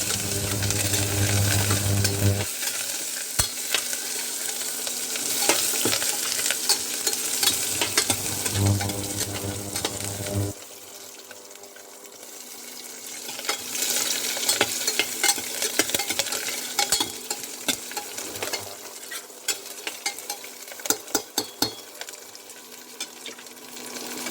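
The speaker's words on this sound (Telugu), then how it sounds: "ఇప్పుడు ఉల్లిపాయ, కొత్తిమీర, కరివేపాకు వేసేస్తాను" Onion, coriander and curry leaves crackle and sizzle in hot oil for a home-style tempering in Tirupati, Rayalaseema-style cooking; a steady close frying hiss with stirring scrapes and sharp pops, heavier in the first ten seconds, no talking.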